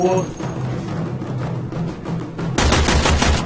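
Gunfire in the Warframe video game, with rapid automatic bursts that jump loud and dense near the end over a busy, rumbling game soundscape.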